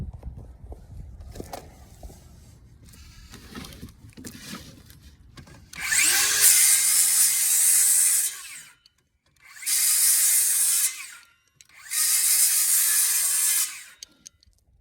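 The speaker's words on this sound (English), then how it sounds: "This is the 7 1/4 circular saw with a DEWALT blade." A DEWALT 20V 7 1/4-inch circular saw with a DEWALT blade cuts wood in three loud, close bursts of high whine separated by short pauses, after some quieter handling and knocking.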